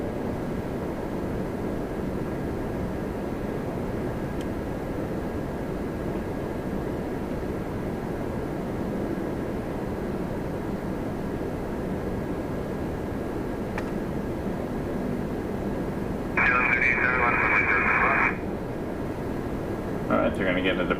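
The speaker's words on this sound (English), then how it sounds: "a MAX 8 Air Canada 1139 from Quebec City" An Air Canada Boeing 737 MAX 8 at Toronto Pearson produces a steady, distant low jet rumble, with a short tonal electronic burst near the end.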